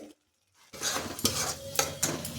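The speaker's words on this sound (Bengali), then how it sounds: "এখন মশলাটা খুব ভালোভাবে কষিয়ে নেব" Spice masala stirred and fried in a pan for egg curry: after a brief silence, a close sizzle starts with several sharp metallic scrapes and clinks of a spoon against the pan, no talking.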